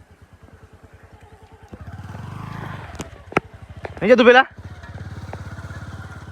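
A motorcycle engine putters steadily with a rhythmic throb, briefly rising, while people speak over it and a sharp clatter or horn-like burst cuts in.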